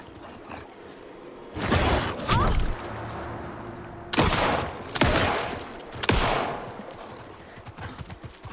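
Gunfire from the video game Alan Wake sounds as several loud sharp bursts of shots, separated by short gaps and backed by a low ambient game rumble.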